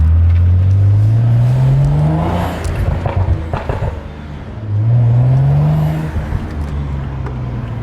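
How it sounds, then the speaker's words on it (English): Two hard accelerations of a BMW F30/F32 turbo engine, each a rising, loud drone as revs climb through the gear, then easing off into a lighter cruise with faint whoosh, heard up close from the cabin. "You hear that turbo?"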